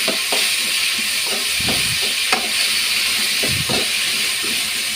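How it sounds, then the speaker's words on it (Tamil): Vegetables sizzle in hot oil with a steady hiss, broken by a few clacks and scrapes of stirring close by. "இது அப்படியே தாளிக்கத்தில் போட்டு நம்ம கொஞ்சம் நேரம் வதக்கிடலாம்"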